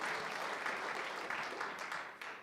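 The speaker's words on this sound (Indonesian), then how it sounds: "Mau tepuk tangan buat Tuhan Yesus" A church congregation breaks into steady, dense applause, many hands clapping at a moderate distance for a couple of seconds before it starts to fade.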